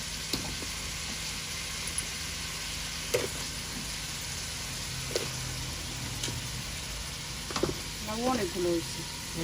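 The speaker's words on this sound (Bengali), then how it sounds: "চিংড়ি মাছ কষানি হয়ে গেছে এখন লাউ দিয়ে দিবে" Bottle gourd drops into a pan of sautéed shrimp, setting off a steady sizzle and frying hiss, with a few clinks of the utensil and a brief stirring scrape near the end.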